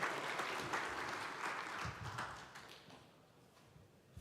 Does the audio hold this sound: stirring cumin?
no